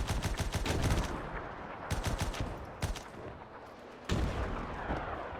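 Loud artillery fire in a WW1 battle video game played as the German Empire: heavy booming blasts land in irregular succession, with bursts of crackling gunfire in between and the rumble of a dense battlefield.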